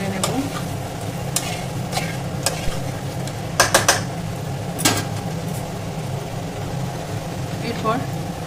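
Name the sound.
stirring potatoes into frying curry masala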